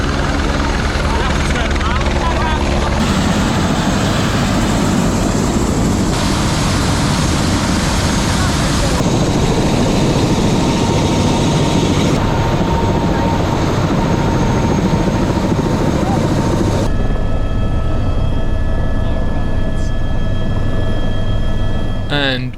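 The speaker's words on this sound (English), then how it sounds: "we were finally on a flight out of Lukla heading for Ramachap Airport" Loud, steady engine and propeller drone inside a small aeroplane flying from Lukla to Ramechhap airport in Nepal, filling the cabin without a break and shifting in tone partway through.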